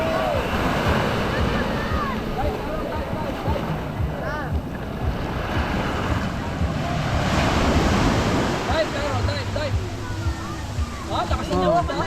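Strong surf at a Zambales beach rolls and crashes continuously with gusty wind buffeting the microphone, while people talk and call out over the waves.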